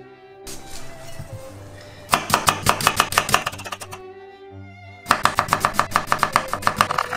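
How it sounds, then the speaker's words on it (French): A knife chops half an onion on a cutting board in rapid bursts of crisp, evenly spaced taps, close and loud, with a short pause between the two runs of cuts. "Pour mon riz, je vais couper un demi-oignon."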